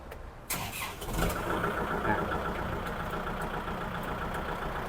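A used walk-behind tractor engine catches and settles into a steady, knocking run, moderately close but fairly quiet, with no talking over it.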